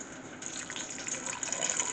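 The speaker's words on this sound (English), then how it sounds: "I just want to make sure that we get a little bit more water in there." Water from a tap runs into an Instant Pot pressure cooker pot, a soft steady gush that builds slightly as it fills, close by with no talking.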